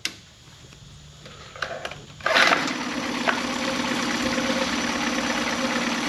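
A Mercury 9.9 four-stroke outboard motor starts abruptly after a quiet stretch, then runs steadily with a broad, noisy drone and a faint tonal hum, close and loud.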